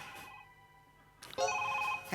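A phone rings with a tonal electronic ringtone, brief bursts close by, rising louder after a short quiet stretch.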